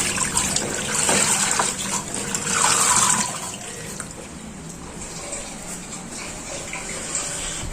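Water running from a tap over a salt-crusted fishing lure body, a steady close splashing hiss with brief louder gushes as the lure is rinsed, then a softer continuous trickle.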